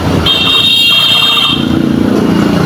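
A motorcycle engine idles and revs steadily after a CDI replacement, loud and close, with a continuous droning tone and a high whine early on, no talk.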